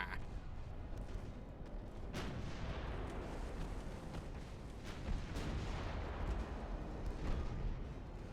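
Naval gunfire and high-explosive shell impacts from the warship game Ultimate Admiral: Dreadnoughts, a dense, continuous rumble of heavy booms and blasts with several sharper reports rising out of the steady roar.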